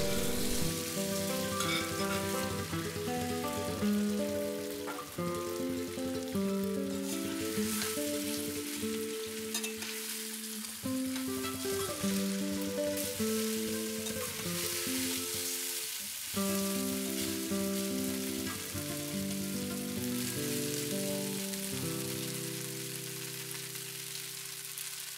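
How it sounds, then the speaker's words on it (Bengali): Leftover rice pieces fry in oil with sesame seeds and curry leaves, giving a loud, steady, continuous sizzle with crackling that lasts throughout, close by and with no talking. "কারি পাতা 8-10টা দিয়ে ভাজা হলে ভাতের পিসগুলো দিয়ে ভেজে দিলাম"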